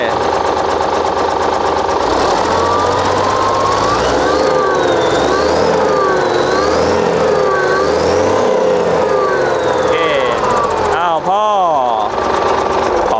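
Hino A09C truck engine rated at 344 horsepower revving hard in a workshop, a loud sustained roar with rising and falling pitch and a sharp final blip near the end, with someone talking over it throughout.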